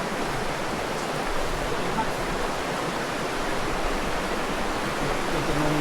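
Clear water of the Maples River in Barangay Buer, Aguilar, Pangasinan flows in a steady, dense broadband rush that holds at one level throughout, close and loud, with no other sounds rising above it.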